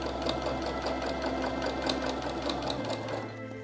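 A sewing machine stitching continuously as it understitches a seam close to the facing edge of a tie top, a steady rapid mechanical whir with even needle ticks, running alone and slowing slightly near the end.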